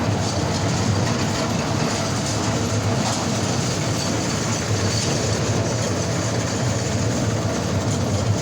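An amusement park ride train makes a constant, dense rumble with a rattling clatter, loud and close throughout. It sounds as if recorded from on board, and there is no talking.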